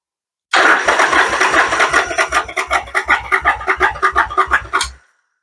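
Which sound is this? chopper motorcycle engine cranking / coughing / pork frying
chopper motorcycle engine cranking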